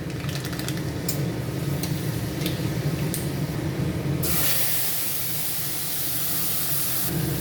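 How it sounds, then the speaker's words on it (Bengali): Whole spices for a tempering sizzle hard in hot mustard-oil fish curry fat, a loud, dense hiss that swells abruptly into a brighter, steadier spray-like roar. "এখন ফোড়ন দিয়ে দেব"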